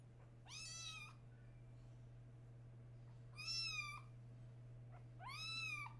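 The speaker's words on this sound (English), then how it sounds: "She's meowing up a storm." A female pet cat meows three times in a row, each call long and rising then falling, fairly clear over a steady low electrical hum with no one talking.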